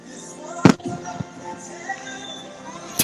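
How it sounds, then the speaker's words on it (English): Theme park night show fireworks at Luminous The Symphony of Us: a loud near bang, a few softer pops, then another sharp burst, over crowd murmur and music. "right as the fireworks are going off"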